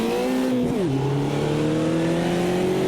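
A Puma GTE race car engine in Automobilista 2 at Campo Grande drones loud and close, its pitch dipping briefly at a gear change before climbing steadily again.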